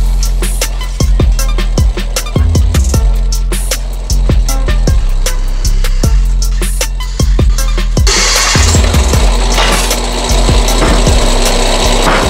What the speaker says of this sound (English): let's get these holes drilled and we will plop this piece on